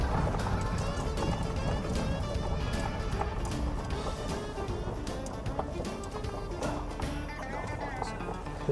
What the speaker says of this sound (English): Little donkeys.